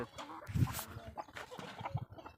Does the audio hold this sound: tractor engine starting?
no